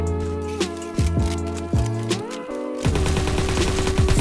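Bursts of Fortnite gunfire crack out in a rapid, loud volley, shot after shot stacking over the game's background music and effects.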